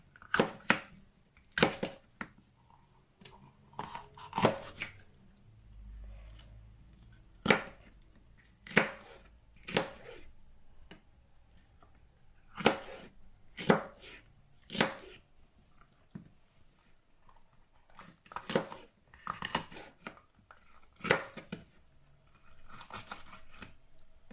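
Knife chopping deseeded red peppers on a board in a home kitchen: sharp, close, irregular blade strikes in short bursts with brief pauses, no talking.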